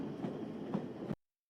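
A train in a short Irish film clip, a steady rumbling roll with a few rhythmic wheel knocks, cutting off abruptly into silence.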